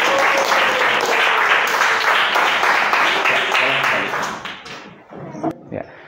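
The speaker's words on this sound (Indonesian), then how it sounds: "Give applause untuk Hana." Applause from a classroom audience for a student named Hana, a dense burst of clapping that carries for about four seconds and then thins out into a few scattered claps.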